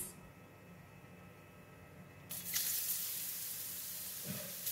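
Thinly sliced shiitake mushrooms dropped into a pan of hot garlic oil for a choy sum stir fry, a quiet hiss that suddenly jumps into a bright, steady sizzle, with a light clatter near the end.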